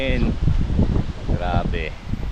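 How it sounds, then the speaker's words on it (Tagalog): Strong wind gusting through leaves outdoors, a loud continuous rustle and buffeting against the microphone, with a person talking over it. "Yan, lakas ng hangin."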